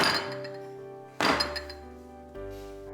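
A 28 cm square metal baking pan lined with oilcloth and filled with cake batter is knocked against a hard surface a few times, giving dull, resonant thunks with a brief metallic ring.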